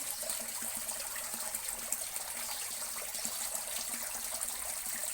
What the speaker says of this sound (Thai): มุมนี้เป็นมุมที่ ชอบมานั่งฟังเสียงน้ำตก ได้บรรยากาศครับ